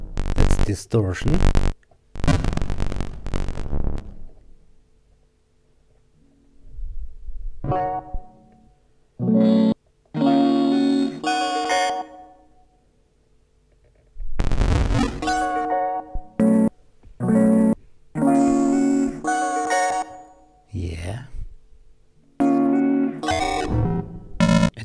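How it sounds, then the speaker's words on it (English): Sonicware Liven LoFi-12 sampler playing short, gritty bit-crushed notes in bursts separated by pauses, with a crunchy, distorted edge; moderately loud and close, no talking. "Yeah, it was a bit crusher."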